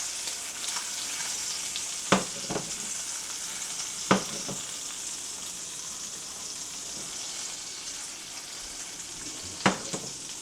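Butter and olive oil sizzle in a pan in a steady, soft frying hiss, broken by a few sharp louder pops and crackles spaced several seconds apart, with no talking.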